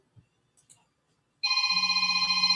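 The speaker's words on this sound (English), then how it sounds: "my phone's still ringing." A telephone rings with a rapid, repeating electronic trill after a moment of near silence and a couple of faint taps.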